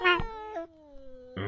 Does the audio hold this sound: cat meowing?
yes